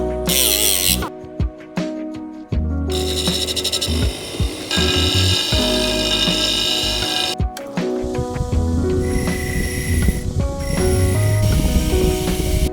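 A power tool saws through the end of a length of threaded rod during a BMW rear differential bushing repair. The cutting is loud and continuous, with grinding, rasping bursts separated by a few brief pauses.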